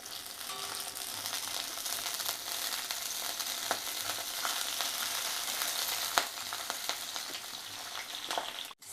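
Chilies fry in oil in a pan while a bottle gourd and tomato pachadi is made, giving a continuous close sizzle with scattered light stirring clicks and one sharper knock.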